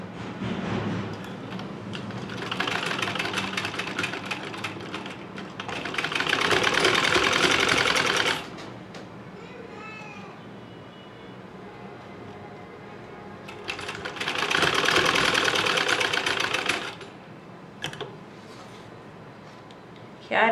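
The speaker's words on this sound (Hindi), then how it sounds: "अब हम इधर साथ से चिप्स के बिल्कुल साथ साथ सिलाई लगाते जाएंगे" Electric sewing machine stitching along a zipper while sewing a square-neck garment, running in long steady whirring bursts with quieter pauses between, a voice talking throughout.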